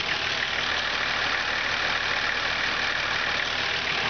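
A 1995 Nissan UD1400 Vulcan wrecker tow truck's diesel engine idles in a steady, even, close-up drone that runs unbroken throughout with no voices.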